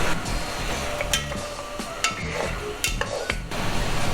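Lamb brisket stir-fried in a pan before braising: a loud, close sizzle broken by repeated scraping and clacking stirring strokes against the pan, with no voices.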